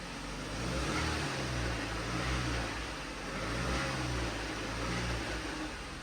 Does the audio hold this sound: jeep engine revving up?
yes